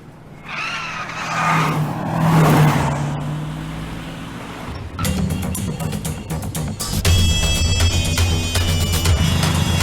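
Car chase sound effects from a Hindi-dubbed action film, with engines roaring and tyres screeching, loud and busy, swelling and shifting as the vehicles race and pass.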